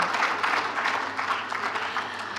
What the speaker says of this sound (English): Clap now, you are still clapping.